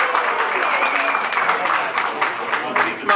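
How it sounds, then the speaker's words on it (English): Crowd at a Salem courthouse 150th anniversary celebration applauding volunteers, a steady close wash of many hands clapping with scattered voices. "How about a little applause for those folks"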